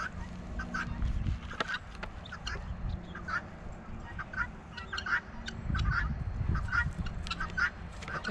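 Guinea fowl call repeatedly in a backyard garden, sharp rhythmic bursts coming in a steady series over a low rumble of outdoor background noise.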